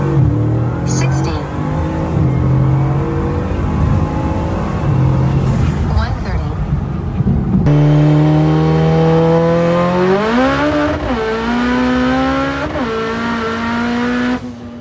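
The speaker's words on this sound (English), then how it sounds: "Dan's 1100 horsepower Mitsubishi Evolution" An 1100-horsepower Mitsubishi Evolution street car running 56 psi of boost roars close by, then accelerates hard through rising, climbing revs with sharp shifts in one loud, sustained pull.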